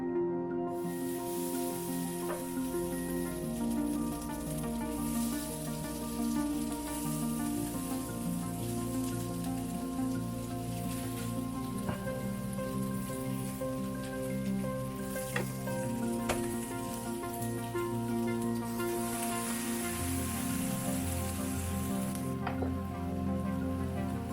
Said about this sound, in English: So I'm going to put my salmon patties on and hit start.